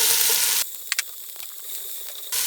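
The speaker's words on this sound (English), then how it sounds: "we're going to add in the onions." Onions in hot olive oil in a pot, a loud hissing sizzle that suddenly cuts out, leaving a couple of sharp clinks and faint crackle before the bright sizzle returns, close by with no speech.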